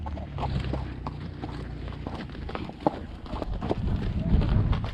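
Horse hooves clop at a slow walking pace along a path in Cappadocia, Turkey, steady and fairly close, with wind buffeting the microphone and a faint voice in the background.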